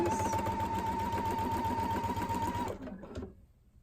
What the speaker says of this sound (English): So I'm just going to sew these bindings together